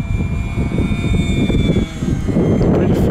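Durafly Brewster F2A Buffalo 920mm electric RC model plane flying fast on its maiden flight, a steady loud motor and propeller whine with a rising tone that continues throughout.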